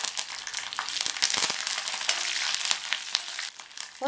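Curry leaves fry in hot oil with mustard seeds and dal for a ridge gourd poriyal, giving a busy, crackling sizzle with scattered pops and stirring scrapes, close and continuous.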